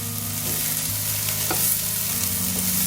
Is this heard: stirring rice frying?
yes